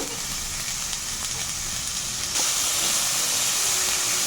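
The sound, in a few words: vegetables frying in a pan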